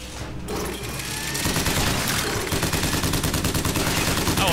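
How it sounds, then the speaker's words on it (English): Rapid automatic gunfire from a weapon in Bioshock Infinite, a loud, dense stream of close shots that settles into a steady rattling rhythm through most of the stretch. "I will shoot you, and I will miss."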